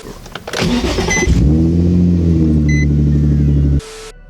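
A Nissan 350Z engine cranks and catches, then idles loudly and steadily up close for a couple of seconds before shutting off.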